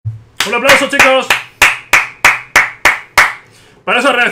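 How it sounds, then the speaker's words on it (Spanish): Sharp, loud claps land in a slow, evenly spaced rhythm, about eight in a row, with brief talking before and after. "Un aplauso, chicos."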